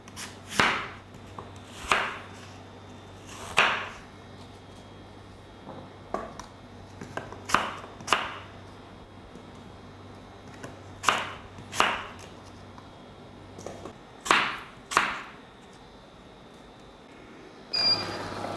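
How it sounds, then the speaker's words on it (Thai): Sparse, sharp knife chops cut an apple on a cutting board one at a time, spaced a second or two apart, over a quiet low hum. "หั่นแอปเปิ้ล เตรียมไว้สำหรับลิปที่ 2 นะครับ"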